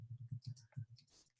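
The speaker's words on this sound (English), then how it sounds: "And so I'm typing this in the chat" Faint keyboard typing during a live online scrapbooking session: a quick run of light, irregular key clicks that sits low in the mix.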